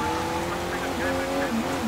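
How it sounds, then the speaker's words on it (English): Car engine hum in the game Sleeping Dogs, a steady drone with shifting pitch as the car is driven toward the docks, continuous and close, with a faint voice or game chatter mixed in underneath. "we gotta drive to the docks"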